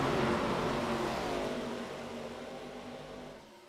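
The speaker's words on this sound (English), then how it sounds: "It's going to take about a lap and a half for these ARCA machines to get up to speed" ARCA stock cars on the Daytona speedway roar past in a loud, dense engine drone that slowly fades and drops in pitch as the field pulls away.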